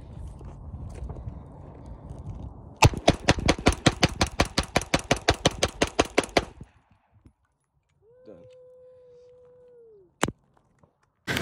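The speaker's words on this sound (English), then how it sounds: "mag dump, 20 bullets." A Glock 19 Gen 4 pistol empties its magazine in a rapid string of about twenty sharp, loud gunshots lasting several seconds, then silence, a faint tone and one more isolated bang.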